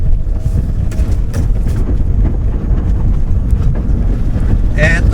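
A Nissan X-Trail accelerates at full throttle on a snowy road, its steady engine roar and road rumble dense and continuous throughout, mixed with wind buffeting and a brief higher whine near the end.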